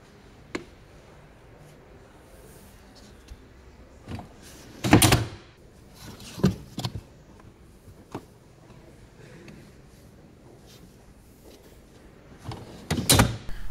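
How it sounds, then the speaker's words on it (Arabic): Third-row seats being unfolded in a Citroen C4 Grand Picasso seven-seater: scattered clunks, latch clicks and a couple of louder thumps spread across the stretch, with quiet cabin background between them and no talking. "طريقة فرد كراسي الصف الثالث"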